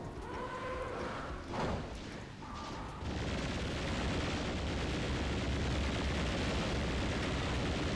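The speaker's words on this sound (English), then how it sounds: "Let's do a rocket launcher." Rocket launcher explosions from the video game Doom II land as booming blasts, one heavy hit around the middle, and then a sustained rumbling roar takes over for the rest.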